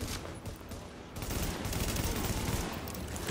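Sustained gunfire fills a firefight in the video game The Division, with dense overlapping shots rolling continuously at a steady, moderately loud level.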